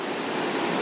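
Vedder River in Chilliwack, BC, heard as a steady broadband rush of flowing water, close and continuous, with no voices.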